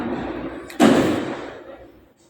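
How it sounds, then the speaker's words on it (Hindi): A single loud firecracker burst outside, a sharp bang followed by a long fading rumble and echo, after a steady background hiss. "पटाखे कुछ ज़्यादा ही फूट रहे हैं, यहाँ पर बहुत आवाज़ आ रही है"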